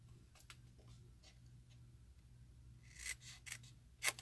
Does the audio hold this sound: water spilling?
no